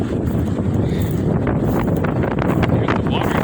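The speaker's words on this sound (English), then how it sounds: "That's a big gust." A strong gust of wind during a windstorm near open water with whitecaps, roaring steadily and buffeting the microphone, loud and close throughout.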